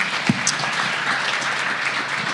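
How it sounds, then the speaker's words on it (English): Audience applause at a community panel event on workforce development, a steady broadband wash of clapping filling the whole stretch at moderate loudness with no talk over it. "Give Joel a round of applause, please."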